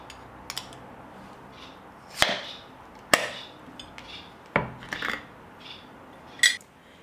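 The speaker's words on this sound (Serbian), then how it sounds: "Evo, otvorila sam teglu i sad ću sipati u tanjir." A glass jar of preserved cooked rice being opened: a handful of sharp clicks and knocks, scattered and close, over quiet room noise with no talking.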